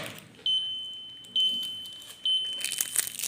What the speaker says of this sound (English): the cycle complete, it's going to give you an buzzer